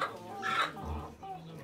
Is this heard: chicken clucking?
yes